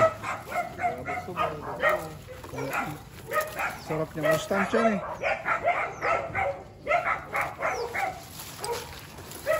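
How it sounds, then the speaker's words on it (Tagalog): Dogs bark and yip in quick bursts in Asingan, Pangasinan, close by and fairly loud, mixed with people talking over them. "Maraming aso."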